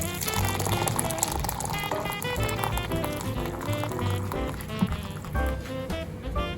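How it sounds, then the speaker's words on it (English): Hot boiling water pours steadily into a pot with a continuous bubbling, splashing rush, close by, with faint clinks in the background. "now we're going to put some hot boiling water here"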